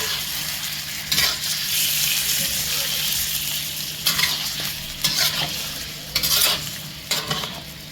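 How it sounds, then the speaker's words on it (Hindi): Chicken sizzles steadily in a pan, close and loud, with a spatula scraping and stirring in several short bursts over the constant frying hiss. "और इसे हम इसी में थोड़ा सा फ्राई करते हैं अच्छे तरीके से।"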